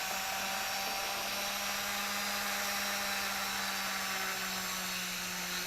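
A rotary polishing wheel spins against Glock Gen 2 trigger parts in a steady workshop whir. The drone is continuous and fairly loud, with a faint tone that shifts in pitch partway through and no talking.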